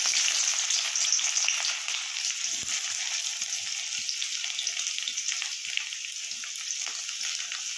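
Chopped onions fry in hot oil with black cardamom, cinnamon and dried red chillies for a paneer bhurji curry, producing a loud, close, continuous crackling sizzle that stays steady throughout.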